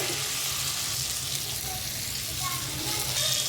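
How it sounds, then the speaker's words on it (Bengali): Fried potatoes stirred into spice paste with salt and alurdom masala in a pan give off a steady, even sizzle with faint scraping from the stirring. "আমি এর মধ্যে একটু নুন দিলাম, একটু আলুর দম মশলা দিয়ে ভালো করে নেড়ে চেড়ে নিচ্ছি"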